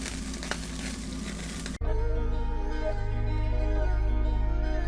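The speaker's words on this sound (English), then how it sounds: "About to throw the cecina on there right quick for y'all." Cecina meat hits a hot grill and sizzles loudly, a sudden burst of crackling fat that stays steady and close after an opening stretch of flame and outdoor noise.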